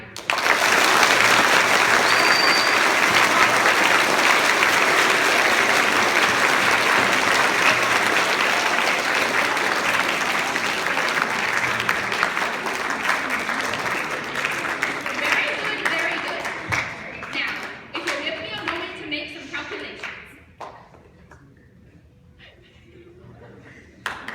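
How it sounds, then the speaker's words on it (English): Audience applause at a musical rehearsal, a loud, full burst of many people clapping, with some chuckles mixed in, that slowly thins and fades over about twenty seconds into scattered claps and murmuring. "Anyone who believes the defendant is innocent, applaud now."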